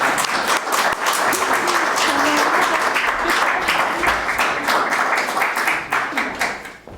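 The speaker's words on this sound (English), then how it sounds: "let's have a round of applause for Brenden" A crowd at a campaign launch speech in Halifax claps for a guest, a loud, sustained round of many hands with a few faint voices in it, fading toward the end.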